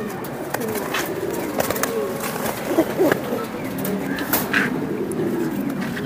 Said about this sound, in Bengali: এটা হচ্ছে রাব্বানি স্টাইলের একটা মাদি কবুতর